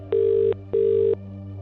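Ringback tone while calling a boss's personal phone: two even, moderately loud electronic rings separated by a short gap, over a faint steady hum.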